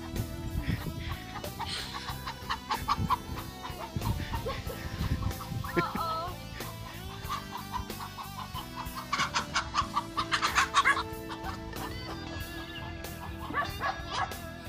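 Chickens cluck and squawk in agitation while a dog chasing them barks and yips among them, a busy, continuous outdoor commotion.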